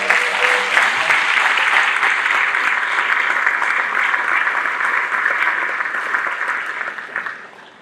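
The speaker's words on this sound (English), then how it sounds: "Let's give them a round of applause." A concert audience applauds students after an 8th grade and wind symphony band performance, steady dense clapping sustained for several seconds and tapering off toward the end.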